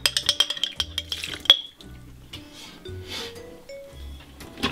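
Christmas mincemeat cake mixture being whisked in a bowl, opening with a rapid run of close, clattering metallic taps, then softer, duller churning strokes with faint clinks.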